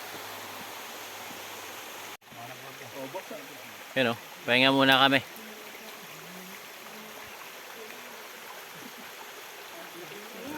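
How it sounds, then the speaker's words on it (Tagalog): A river stream flows steadily in the background on a mountain, a soft continuous rush, while people speak briefly midway. "ito kami sa tabing ilog"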